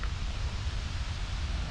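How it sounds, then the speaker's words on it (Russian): A distant waterfall at Auttiköngäs gives a faint, steady rushing hiss with no other distinct sounds. "Водопад слышно отсюда."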